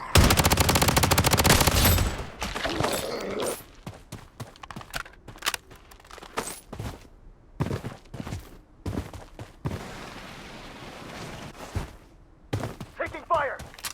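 Gunfire in the online shooter game Blood Strike, opening with a loud sustained automatic burst, then scattered shots and impacts under in-game voice callouts.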